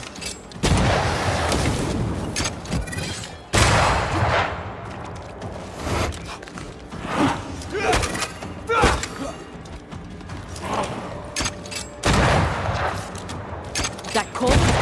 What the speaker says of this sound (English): That corpse is gonna shoot.